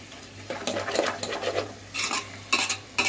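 Onion and tomato for chicken dum biryani being stirred in a pan, a close run of rhythmic scraping and clinking strokes over a faint sizzle, with short pauses between bursts.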